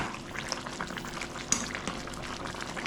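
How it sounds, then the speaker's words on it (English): Water poured into a pot of plantain pepper soup with cow meat over a village cooking fire, a steady close bubbling and splashing hiss with no voices. "So that's why it's me pouring another water on it."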